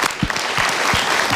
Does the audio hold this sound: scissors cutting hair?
no